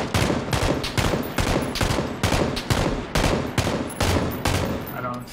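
Gunfire in PUBG comes as a close, loud run of regular shots, about two per second, each a sharp crack with a short decay, repeating steadily for over five seconds.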